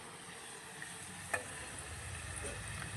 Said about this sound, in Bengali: আলুটা কিন্তু ভাজা হয়ে গেছে লাল লাল করে